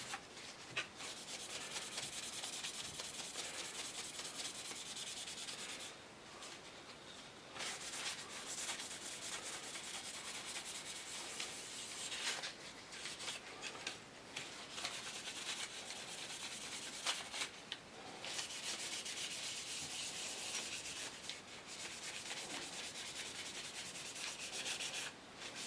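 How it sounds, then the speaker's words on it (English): A plastic Seafire XV scale model is rubbed vigorously with tissue during a wash, making a steady, close, dry scrubbing rasp that continues almost without pause, with brief gaps between strokes. "you really need to keep going over the model with fresh bits of tissue"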